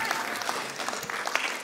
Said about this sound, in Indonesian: nggak usah tepuk tangan terus